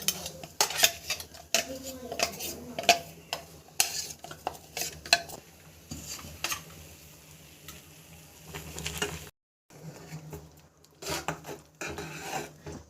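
A utensil scrapes and clinks against a pot as pearl millet flour is stirred into boiling water for kambanjoru. The stirring comes in irregular bursts, close and fairly quiet.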